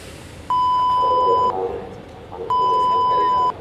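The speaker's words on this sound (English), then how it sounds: "Emergency at Savan is declared by sounding intermittent alarm," Industrial emergency alarm at a plant site, two steady electronic tones of about one second each, separated by a one-second gap, sounding clearly over faint background chatter.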